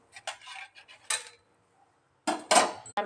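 Metal clinks and scrapes of cutlery on a plate as a crisp cassava adai dosa is lifted and moved onto another plate, in short close bursts separated by a quiet pause.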